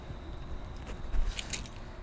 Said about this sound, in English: Just get the car keys that are in your back pocket.